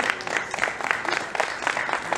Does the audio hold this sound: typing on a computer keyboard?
no